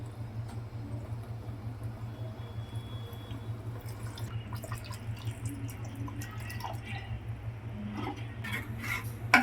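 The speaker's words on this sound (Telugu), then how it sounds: "ఇప్పుడు దీంతో ఒక గ్లాస్ వాటర్ అయితే యాడ్ చేసుకుందాము" A glass of water is poured into a pan of brinjal and potato masala curry gravy, giving soft splashing and bubbling near the end over a low steady kitchen hum.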